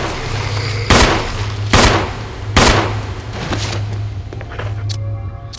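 Handgun shots in the Resident Evil remake ring out three times at a steady pace, loud and close, with game ambience and a low hum underneath and no talk.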